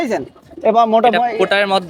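Fancy pigeons at the Khulna pigeon market coo in a steady, throaty run, close by and prominent, with a brief gap near the start.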